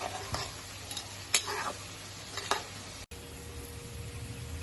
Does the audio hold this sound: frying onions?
yes